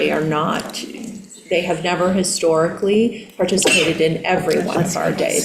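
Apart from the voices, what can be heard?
sneeze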